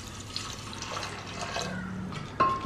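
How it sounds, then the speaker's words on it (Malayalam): Water is poured over chickpeas in a pressure cooker for a Kerala aviyal and kootukari, a soft continuous splashing trickle at moderate distance, ending with a brief louder clink. "കടലയ്ക്ക് മേക്കെ വെള്ളം ഒഴിക്കുക."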